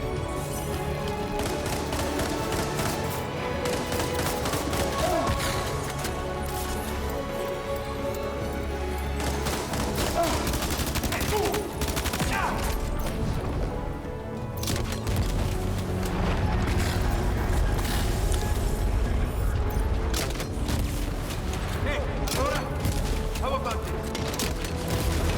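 Gunfire mixed with rocket and grenade launcher blasts in Death Stranding 2: a steady barrage of shots and heavy booms, with mechanical clatter, runs under voices throughout.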